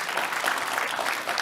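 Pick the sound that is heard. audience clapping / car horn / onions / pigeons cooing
audience clapping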